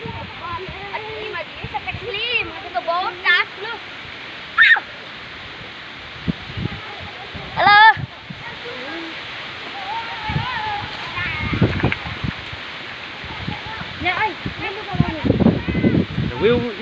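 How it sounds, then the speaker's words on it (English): A waterfall in West Jaintia, a steady broad rushing roar heard continuously at moderate distance, with people talking intermittently over it. "That is the waterfall."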